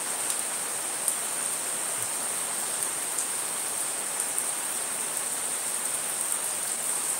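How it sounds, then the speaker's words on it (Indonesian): Heavy rain pouring steadily in a high mountain area, a dense, even hiss with scattered sharper drips, loud and continuous with no voices. "hujannya lebat banget ya"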